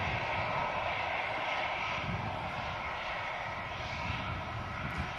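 Airliner on the apron at Manchester Airport, heard as a steady unbroken engine roar with a broad hiss and a low rumble, constant and fairly distant throughout.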